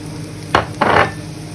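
Two short bursts of sizzling as diced sausage is stirred in a hot pan, the second longer, close and loud against a quiet background.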